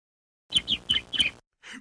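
Cartoon bird chirps in a children's educational matching game, a quick run of four or five bright tweets followed by a short pause and one more softer chirp, with no talking.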